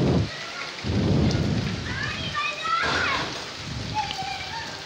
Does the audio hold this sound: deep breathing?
no